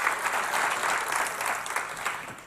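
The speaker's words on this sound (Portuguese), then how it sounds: "Vamos aplaudir mais forte." A church congregation applauding during a service, a full, steady round of clapping that swells slightly and then eases off toward the end.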